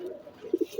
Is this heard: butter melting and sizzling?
no